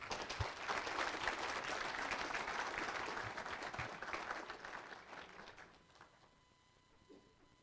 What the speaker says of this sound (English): Another round of applause for the 2011 Wakeland girls soccer team.